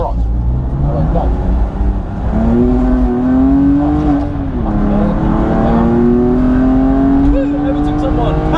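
Race car on a track-day circuit accelerating hard out of a corner, its engine note climbing steadily and loud throughout, close to the listener, with wind and road noise behind it.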